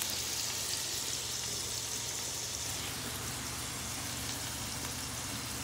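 Steady, dense crackling sizzle of food frying in a pan, continuous and even throughout with no talking.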